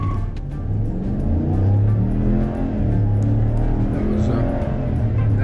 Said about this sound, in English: That was the noise from the tires.